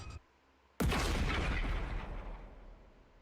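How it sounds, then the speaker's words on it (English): A single short, sharp explosion in The Hundred Line: Last Defense Academy, a loud sudden boom that cuts in after a faint lead-in and rolls off into a long rumbling decay. "A short, sharp explosion suddenly rang out around us."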